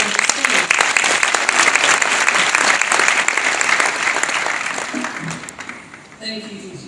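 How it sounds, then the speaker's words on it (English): Audience applause welcoming a provincial MEC onto the stage at a morning event: dense, sustained clapping from a crowd that tapers off toward the end, with a voice beginning to speak as it fades. "Can I request that we give a round of applause and welcome the MEC on the stage?"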